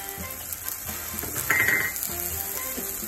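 Hamburger meat with garlic frying in coconut oil in a pan, a steady close sizzle with light scraping and a brief brighter hiss partway through, no talking.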